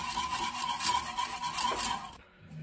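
A whisk stirs butter melting into milk and water in a saucepan, a steady close scraping and swishing rasp that runs continuously, then stops abruptly near the end.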